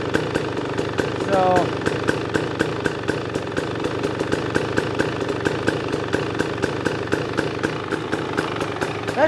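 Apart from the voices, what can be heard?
2023 KTM 300XC dirt bike engine idling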